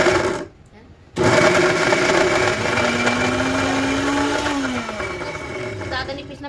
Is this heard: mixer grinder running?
yes